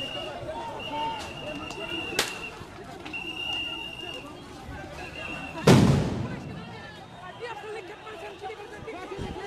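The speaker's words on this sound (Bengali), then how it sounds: "সাউন্ড গ্রেনেড নিক্ষেপ করেছে সিটি কলেজের সামনে" Sound grenades thrown in front of City College in Dhaka during a street clash between Dhaka College and City College students: a sharp bang, then a much louder, close blast that booms and fades, over steady crowd noise and chatter.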